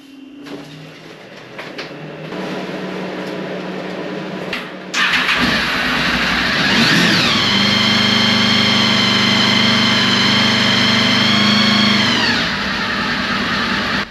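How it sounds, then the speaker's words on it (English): Honda VFR800 V4 motorcycle in a workshop cranking and firing up, then settling into a loud, steady idle with a brief revving swell. A workshop extractor fan hums in the background. "I'm just gonna switch on the extractor and fire up the bike."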